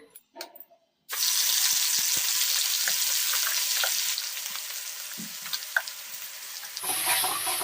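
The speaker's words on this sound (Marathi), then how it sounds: "कढईमध्ये तेल आहे त्यामध्ये जो आपण असा मसाला वाटून घेतलेला तो घालून घ्यायचा आहे" Loud, steady sizzling of ground masala paste for veg korma frying in hot oil in a kadhai starts abruptly after a second of quiet and continues throughout, with occasional clinks and stirring.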